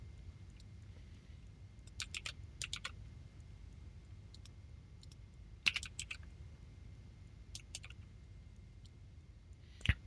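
Typing on a computer keyboard comes in quiet bursts of rapid clicks separated by pauses, over a low steady background hum.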